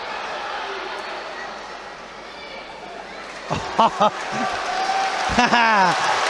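Crowd cheering and applauding at the Tbilisi Grand Slam 2022 judo finals, a steady roar of the arena with sharper shouts swelling near the end, under commentary.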